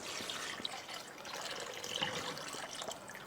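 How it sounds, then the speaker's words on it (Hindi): Coconut milk is poured into a pot of stock for tupka, making a soft, continuous liquid pouring and splashing sound close by with faint drips, and no talking. "और अब हम डालेंगे कोकोनट मिल्क।"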